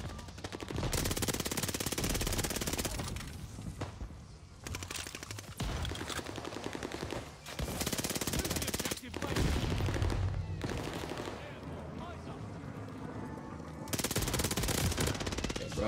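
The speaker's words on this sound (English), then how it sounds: "Enjoy this gameplay, man, of the PPSH-41 and Vanguard." PPSH-41 submachine gun in Call of Duty Vanguard multiplayer, loud rapid automatic bursts firing almost continuously, with short gaps between long sprays and other game noise mixed in.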